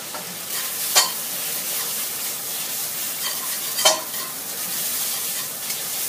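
Rice noodles stir-fried in a pan with pickled radish liquid hiss in a steady close sizzle, with a few sharp scrapes of the spatula against the pan.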